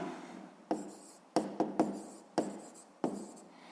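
A pen writes a math solution on paper in a quiet room, with several short distinct strokes and taps spaced out over a few seconds, close and soft.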